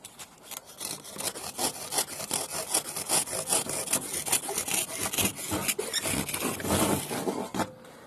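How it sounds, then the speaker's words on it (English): Hand saw cutting through soft, easily cut material with steady back-and-forth strokes, close and fairly loud, continuous for several seconds before stopping near the end. "It's a hand saw."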